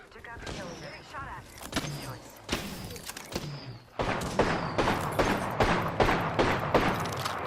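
Rapid bursts of gunfire in an Apex Legends match, sharp repeated shots in quick clusters that grow denser and louder in the second half, with game effects around them.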